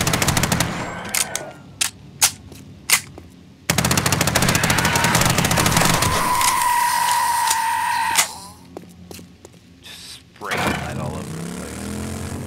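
Rapid automatic gunfire from the video game 7 Days to Die, long loud bursts of close shots broken by a few single cracks, with brief pauses between volleys.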